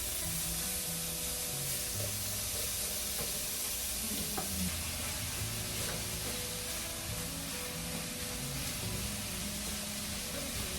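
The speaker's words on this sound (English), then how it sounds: "Cook this for about 3 minutes. Because it's not really thick steak." Steak, a fairly thin cut, sizzles steadily in a pan in a hotel-room kitchen, a dense continuous frying hiss with a few faint clicks of a rubber utensil, no talking.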